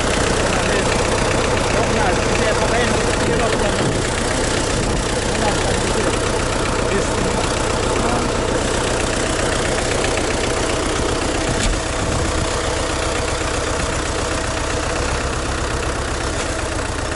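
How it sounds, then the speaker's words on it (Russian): A bulldozer tractor idling in snowy village surroundings, a loud, steady low engine drone with knocking texture that runs the whole time, with some voices underneath. "Бульдозер и утюг. Два в одном."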